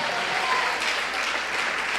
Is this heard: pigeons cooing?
no